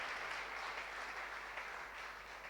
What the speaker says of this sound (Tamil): கைத்தட்டி தேவனை மகிமைப்படுத்துங்க.